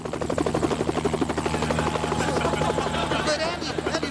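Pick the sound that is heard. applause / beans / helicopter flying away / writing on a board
helicopter flying away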